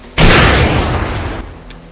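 A single loud, close gunshot boom from a Nollywood drama scene, a sharp onset followed by a long rumbling decay with no talk over it.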